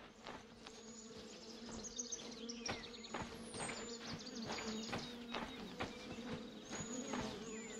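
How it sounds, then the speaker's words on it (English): Bees buzz steadily in a video game set along a forest path, a dense continuous insect drone with faint chirps and clicks running throughout, fairly close and unbroken. "I hear the bees. I don't see them."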